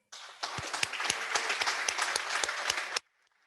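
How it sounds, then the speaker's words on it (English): Rotary Club meeting audience applauding a newly inducted member, a burst of dense clapping that starts abruptly, holds steady with a few sharp individual claps, then cuts off cleanly. "another round of applause"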